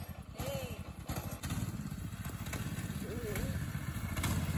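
A Predator 212cc go-kart engine runs nearby with a rapid, chugging putter that swells steadily louder, while voices talk over it.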